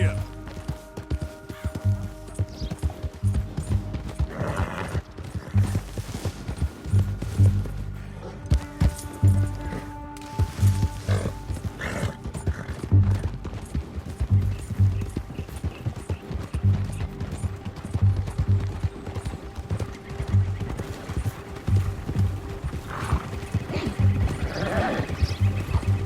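A horse gallops in Red Dead Redemption 2, its hooves beating a steady, rhythmic clip-clop close by for the whole stretch, mixed with game ambience and occasional background voices.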